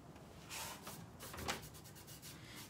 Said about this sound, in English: Hit it with the sanding sponge.